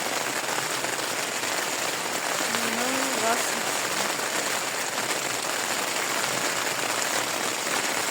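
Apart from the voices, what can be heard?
rain falling in the Carpathian mountains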